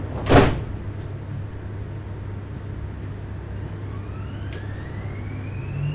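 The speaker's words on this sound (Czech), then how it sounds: "Dveře se zavírají." Doors closing on a Siemens M1 metro train in Prague: a single loud thud as the doors shut, followed by steady train hum, with a rising whine as the train begins to move off.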